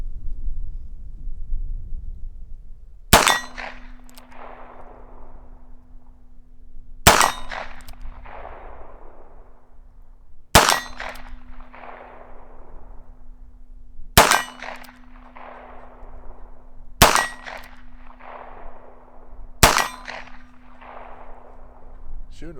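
Heritage Barkeep .22 Magnum revolver fired at a 25-yard target with cheap ammunition, six sharp loud shots spaced several seconds apart, each followed by a brief ringing decay and a faint low hum between shots.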